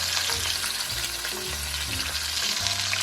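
A pot roast sears in hot oil with a loud, constant sizzle and spatter, and low clunks from the pot and utensils run underneath.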